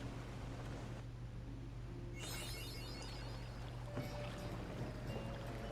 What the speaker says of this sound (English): The ferry is bound for airport.